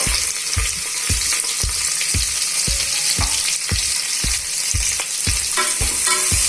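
Onions and curry leaves fry in a pan for mutton pepper thokku: a steady, dense sizzle runs throughout, punctuated by regular scraping knocks of a spatula stirring, close and loud, with no talking.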